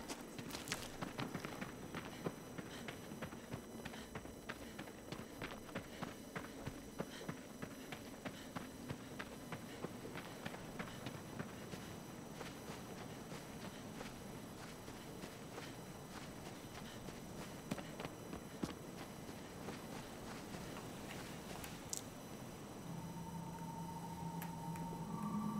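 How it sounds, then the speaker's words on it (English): A horse's hooves in Shadow of the Colossus make a steady, rhythmic clip-clop of galloping that is fairly quiet and continuous, set against a low hum of game ambience with a faint tonal chime near the end. "Yep, get on the horse."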